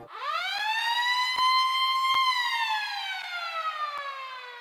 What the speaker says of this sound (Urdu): صبح کے ٹھیک 7:57 پہ ڈورس کو ایک سائرن سنائی دیتا ہے۔